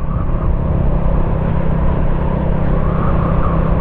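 A Honda RS 125 fi motorcycle cruising on an open highway, giving a steady, loud, continuous engine rumble mixed with wind noise throughout, with no talking.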